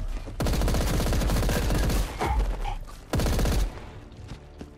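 Gunfire in the video game Paint the Town Red: two long, loud bursts of rapid automatic shots, separated by a brief break with scattered thuds, then a short spattering of fainter sounds.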